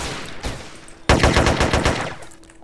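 An M4 rifle fires in SA-MP DayZ inside an interior space, one shot followed by a rapid close burst of about a dozen loud cracks in quick even rhythm, then a short ringing tail.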